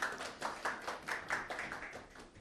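A small audience at an accountancy course information session claps to welcome instructors, a faint, brief patter of hands with an uneven rhythm.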